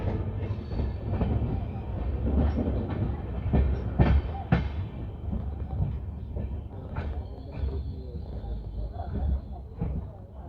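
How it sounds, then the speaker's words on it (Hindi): The Hoshiarpur Agra Cantt Express LHB train rolls into Adampur station, heard from inside a coach as a low rumble with rhythmic clicks and clanks. A voice talks over the rumble. "तो दोस्तों आदमपुर अराइव कर रहे हैं"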